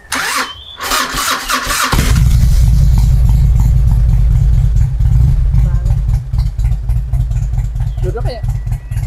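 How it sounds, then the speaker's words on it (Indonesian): A classic motorcycle engine fires up after a brief starter crank, then runs loud and close with a steady, throbbing idle that holds throughout. "Kita dengerin suara motor ini."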